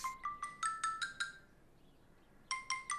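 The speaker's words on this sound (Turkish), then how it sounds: "Telefon çalıyor." Electronic telephone ringtone in an indoor drama scene: a quick run of bright, chiming tonal pulses, a pause of about a second, then another burst of the same pattern, clear and fairly close with no voices over it.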